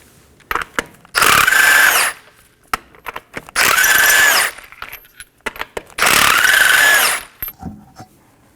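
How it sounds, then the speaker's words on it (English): A power tool drives a 21mm socket to remove the front wheel of a 2015–2023 Nissan Maxima, three loud whirring bursts of about a second each with clicks and small clunks between them. "Now let's go ahead and remove our front wheel using a 21mm socket"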